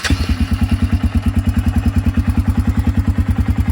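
A Suzuki Eiger ATV engine runs steadily in close range, a loud rhythmic low thumping at a fast even pulse with metallic clatter on top, no voices.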